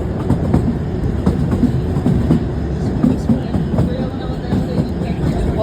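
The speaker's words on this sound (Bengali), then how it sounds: "টয় ট্রেন ছেড়ে দিয়েছে" Kalka–Shimla toy train pulling away, a steady close rumble with clattering wheels and irregular clicks and knocks as the carriage rolls along.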